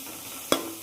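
Onions and tomatoes fry in a pan for fish soup, a soft hiss of sizzling broken by one sharp clatter of stirring, close and brief.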